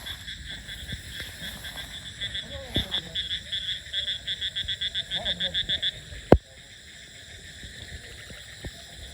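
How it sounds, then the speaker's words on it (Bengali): Frogs croak at night after rain in a village, a steady chorus of rapid pulsed calls near and loud for several seconds, then a sharp click and quieter background croaks. "এই যে ব্যাঙে কুলু নইছে, কুলু করে ডাকো না এত।"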